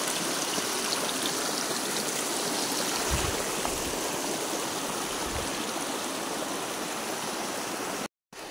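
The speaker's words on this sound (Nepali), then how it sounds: "यता चाहिँ पानी छ, खोला छ।" A hillside stream beside rice paddies rushes steadily, a dense continuous broadband roar close by, with a couple of soft low thumps and a brief dropout near the end.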